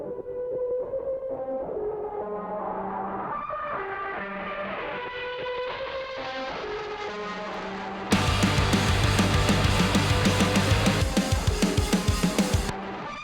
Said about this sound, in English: Synths in this song are very straightforward. They're just cool, gnarly pads.